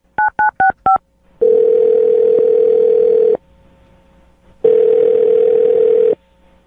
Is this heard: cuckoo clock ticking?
no